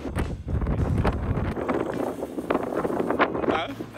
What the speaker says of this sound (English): It's a very windy spot.